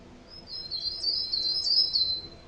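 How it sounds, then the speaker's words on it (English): A bird chirping in a video game, a rapid high trilling twitter that swells and carries on steadily for a couple of seconds over a quiet background, alone with no talk. "Hear that bird?"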